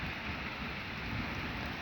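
Steady rain falling close by, a continuous broadband hiss with no speech, in a long-awaited summer shower.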